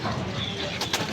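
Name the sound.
male racing pigeons cooing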